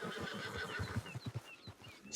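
In the Red Dead Redemption 2 video game, a horse gives a snorting, whinnying call with soft hoof clops underneath, close and fairly quiet, ending in a brief louder burst.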